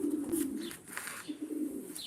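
Racing pigeons coo in low, throaty rolling bursts while being basketed before a race, close and clear, with a few brief higher chirps and no talking.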